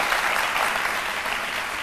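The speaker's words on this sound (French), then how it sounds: "Veuillez l'applaudir, s'il vous plaît." Dense, steady audience applause at a lunchtime TV show on RTI 1, filling the clip evenly and fairly loud with no voices on top.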